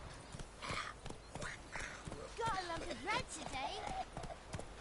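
Horse hooves clip-clop in a steady rhythm in The Witcher video game, while a voice talks over the plodding steps.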